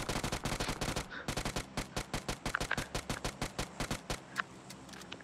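Rapid automatic fire from an MP gun in the mobile game BGMI rattles in a steady, evenly spaced stream of loud shots, then breaks into slightly looser bursts.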